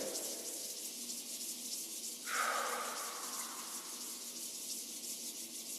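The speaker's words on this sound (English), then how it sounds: "Rubbing the palms together." Palms rub together in a soft, hissing swish that swells briefly midway, quiet and close against a faint steady background.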